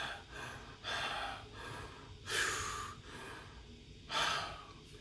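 A person paces back and forth in a room with arms raised overhead, breathing heavily. Four loud, deep breaths come and go at a steady rhythm, up close and with no talk.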